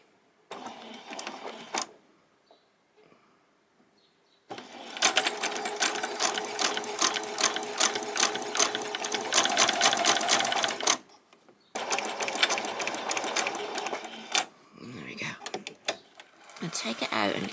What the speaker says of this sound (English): So we're going to just do a row of side stitches right the way along.